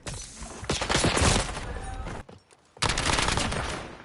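Sustained automatic gunfire from Warzone, a long loud burst that stops briefly and then resumes with another continuous volley, with faint speech mixed in.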